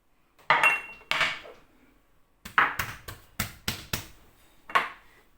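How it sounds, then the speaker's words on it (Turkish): Grated kashar and white cheese are mixed in a bowl for pastry filling, with a utensil scraping and knocking against the bowl in short bursts and taps, close and quiet with pauses between. "kaşarla beyaz peyniri karıştırdım"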